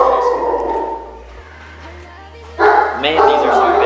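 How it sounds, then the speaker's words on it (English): Big dogs bark loudly and excitedly indoors, with a few sharp woofs and whiny yips mixed with people's voices. "Man, these are some big dogs."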